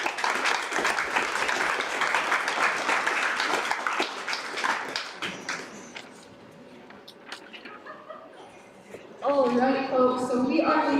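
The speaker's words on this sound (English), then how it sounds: "A round of applause for Amy Nelson." An audience at a colt-starting clinic session gives a round of applause, scattered hand claps that fade and thin out to a few isolated claps before a voice starts speaking near the end.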